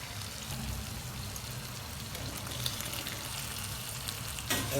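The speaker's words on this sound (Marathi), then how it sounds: "चिकन मस्त मस्तपैकी फ्राय झालंय" Chicken fries in butter in a pan for butter chicken, a steady close sizzle and crackle that runs throughout, with a brief scrape of stirring near the end.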